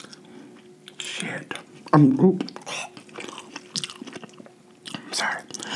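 Someone chews crunchy spicy buffalo fried lobster tail close to the microphone, with wet bites and a sharp crunch between brief spoken words and quiet pauses.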